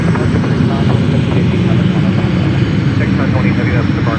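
Aircraft engine rumble at Memphis International Airport, a steady, loud low drone that holds throughout, with faint radio chatter mixed in.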